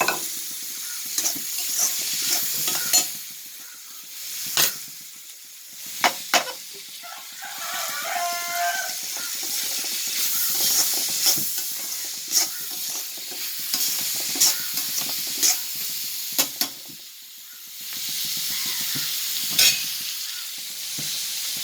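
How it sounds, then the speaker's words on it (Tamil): Finely chopped onions sauté in coconut oil left over from frying prawns for a prawn roast, with a steady sizzle broken by repeated scraping stirs of a spatula across the pan, close and fairly loud throughout. "இறால் ரோஸ்ட் பண்ணுறதுக்கு வெங்காயத்தை பொடியாக கட் பண்ணி நல்லா வதக்கிட்டு இருக்கேன்"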